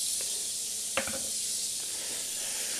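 Butter and garlic sizzling in a hot pan, a steady broad hiss holding evenly throughout with a few faint clinks and one brief knock near the start.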